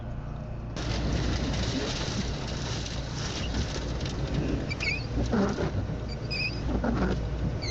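Steady rain patters and hisses loudly, with faint chirping sounds and muffled noises underneath.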